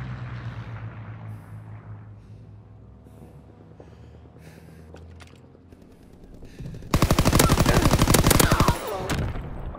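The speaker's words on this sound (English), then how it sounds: "Fighter pilot inbound. Strafing the target." A fighter plane's strafing run in a WW2 ranked Search and Destroy shooter, with low engine rumble building before a loud, dense burst of rapid automatic gunfire that rattles for about two seconds, then trails off.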